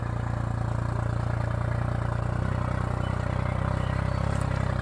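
A tractor engine idles close by with a steady, even chugging throb and a mechanical clatter that runs unbroken throughout, with no voices.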